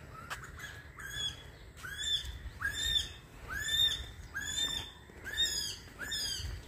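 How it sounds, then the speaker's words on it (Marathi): Birds call in Rock Garden, Malvan, a repeated series of bright rising whistled notes at a steady rhythm over faint background hum, moderately distant. "पक्षी कसे वरडत आहेत."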